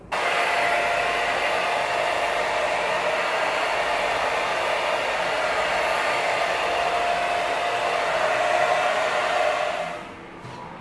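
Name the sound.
hair dryer drying hair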